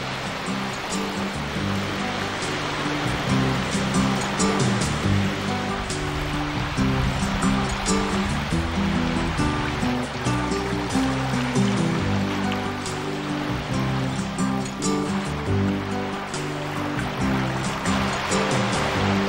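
River Exe on Exmoor rushing over and past a weir, a loud, steady wash of flowing water with constant splashing turbulence and no pauses.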